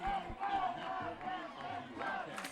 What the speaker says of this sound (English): A big crowd on here for Weslaco East as they're getting excited